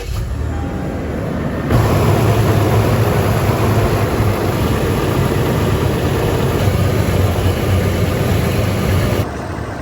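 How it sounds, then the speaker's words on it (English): A Toyota 4Runner engine idles steadily after an oil filter housing repair, a constant low hum with no talking. "The job's not done until we've checked it for leaks."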